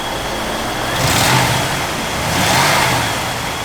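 A 1964 Chevrolet Impala engine idles and hums steadily close by, with a couple of gentle revs swelling and fading under a broad hiss.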